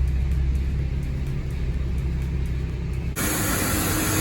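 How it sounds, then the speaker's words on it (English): A car pulls into a car wash with a steady low rumble of road and engine noise, then a sudden switch to louder broadband hiss and spray from the wash equipment starting up. "Pulling into the car wash."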